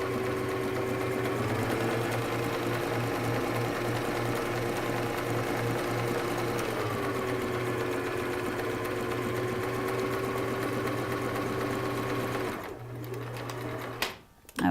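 A sewing machine zigzag-stitches a turban hem, its close, rapid mechanical chatter running steadily with slight shifts in pitch, then pausing briefly before stopping near the end.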